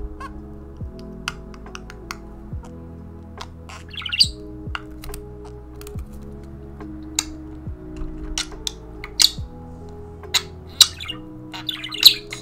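A pet bird chirps and squawks in repeated short bursts, close and fairly loud, over a low steady background hum with faint tapping of a stylus on a drawing surface.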